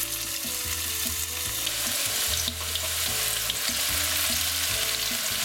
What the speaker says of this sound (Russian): Обжариваю лук в горячем масле.